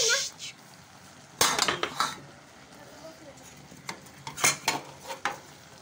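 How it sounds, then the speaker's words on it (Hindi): A lid clatters onto a pot of simmering vegetable curry with carrots, peas, corn and potatoes, giving several sharp metallic clinks and knocks over a faint sizzle, near and fairly loud. "और हम इसको अब ढक देंगे"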